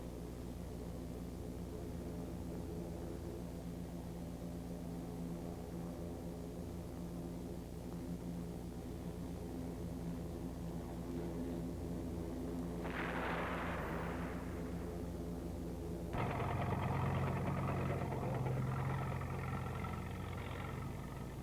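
A TOW missile launches from an AH-56A Cheyenne helicopter over a steady rotor and engine drone, with a sudden hissing whoosh and then a louder roaring burst as the missile fires and streaks away.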